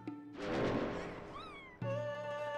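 A cat meows in the video game Chrono Cross after a magic transformation, a clear tonal call of gliding pitch over layered game music, followed by bright sustained synth tones.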